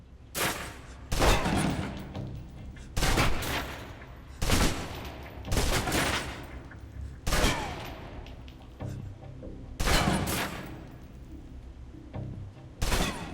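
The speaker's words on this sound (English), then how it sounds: "Now, let's move on to the submachine gun. Now let's empty the clip." Submachine gun from the video game Alpha Protocol emptying a full magazine, heard as repeated short loud bursts of gunfire separated by brief pauses, with no talking.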